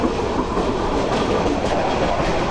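The Tista Express rushes past close by, making a dense, loud, steady roar of wagons and wheels with clattering rail noise that holds for a few seconds.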